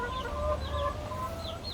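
Laying hens cluck and chatter softly at close range on a home farm during the rainy season, with short rising calls repeating over a steady low background hum.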